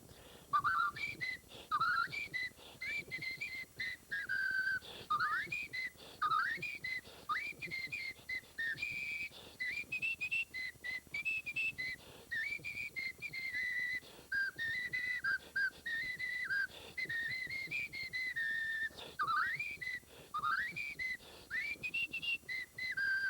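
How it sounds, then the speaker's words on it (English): A man whistles a bouncy, warbling melody along with the Woody Woodpecker song, steady and continuous, close and clear over faint music for the whole stretch. "I whistle along with it."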